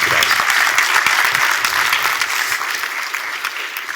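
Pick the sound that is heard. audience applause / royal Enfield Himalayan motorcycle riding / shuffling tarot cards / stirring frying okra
audience applause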